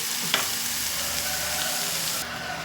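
Bottle gourd pieces and onions fry in a pan with a dense, close sizzle, a single sharp clink near the start, and the hiss dropping slightly toward the end; no one speaks.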